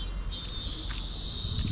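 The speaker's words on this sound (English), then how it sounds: "Cicadas woke up and is super loud during my recording." Cicadas buzz loudly in a continuous high, shrill drone, close and steady throughout with no voices over it.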